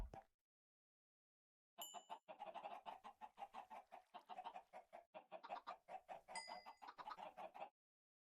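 Chickens in the video game Minecraft cluck in a quick, steady run of short bursts lasting several seconds, fairly close and clear, with no talking.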